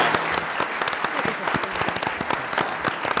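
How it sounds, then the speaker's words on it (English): Sustained audience applause for the two board chairs at a State of the County event, dense steady clapping from a large crowd filling the whole stretch without a break. "I'd say one more round of applause for those two"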